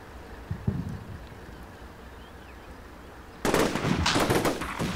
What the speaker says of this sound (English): you can see the grenade travels right over, and then it explodes over and beyond the wall